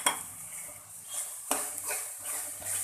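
Soft tomatoes with chili powder being stirred in a metal pan, a spoon scraping and clinking against the sides with a sharp knock partway through, close and steady with faint sizzling underneath.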